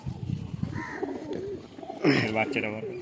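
A male pigeon, a black-tailed fancy breed, gives a few deep coos close by, with someone talking over the start.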